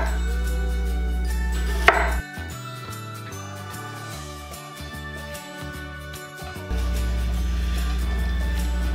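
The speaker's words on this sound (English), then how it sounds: "we're gonna chop them about half an inch or so in each direction" A knife chops apples into roughly half-inch pieces for caramel apple sangria, with a sharp knock near the start and then a run of quick cutting taps over a steady background of music.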